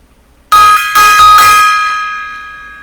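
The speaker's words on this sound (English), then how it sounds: "gong time there" A loud metallic gong-like bell effect plays on a livestream, striking with a quick cluster of hits then ringing out and slowly fading over a couple of seconds, alone without talk.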